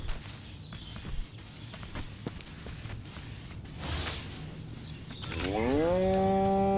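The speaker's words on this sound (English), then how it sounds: "I'd rather hear what the cows say than what the people say." A cow lets out a long, loud, drawn-out moo close by near the end, following several seconds of busy outdoor farmyard noise and shuffling.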